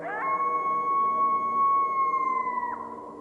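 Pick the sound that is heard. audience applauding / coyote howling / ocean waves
coyote howling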